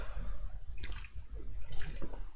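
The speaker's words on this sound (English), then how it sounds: "Sorry guys, I drank water." A person sips water with soft, close swallowing and liquid sounds, a brief bump of the container near the end.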